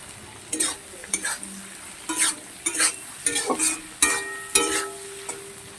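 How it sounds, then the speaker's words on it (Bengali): Sliced onions fry in a pan, their steady sizzle broken by repeated scraping stirs that come in quick bursts, close and fairly loud, with no voices. "পেঁয়াজগুলোকে ভাজবো"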